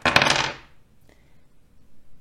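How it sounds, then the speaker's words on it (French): Two dice tossed together onto a table in the French tile-grabbing board game Clac clac: a quick burst of clattering, rattling knocks for about half a second, then one faint tap and near silence. "on lance les 2 dés en même temps"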